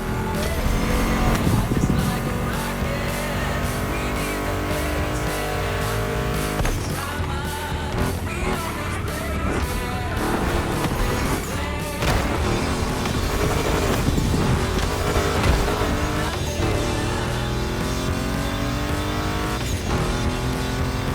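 A Ford Mustang GT muscle car engine in the racing game The Crew Motorfest roars under loud rock music, with revving and tire squeal audible throughout.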